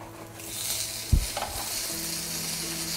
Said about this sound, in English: Stilton cooking in a pan, can't beat it